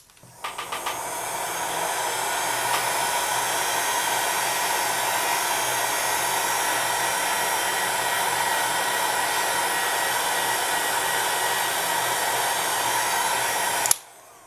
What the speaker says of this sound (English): So bring over your heat gun and heat those.